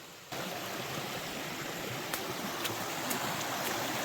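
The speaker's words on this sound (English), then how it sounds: "Beautiful little water creek area." A small creek on an Appalachian Trail section between Max Patch and Hot Springs rushes in a steady, close broadband wash as it is crossed on foot, with a few faint clicks and taps over the flowing water.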